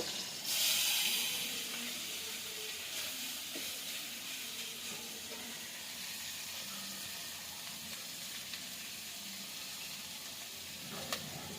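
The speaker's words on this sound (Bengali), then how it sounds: "এবার মাছটা একটু ভেজে নেব।" Dried fish frying in a pan, a loud hiss as it hits the oil, then a steady quieter sizzle that continues for several seconds with a few small pops.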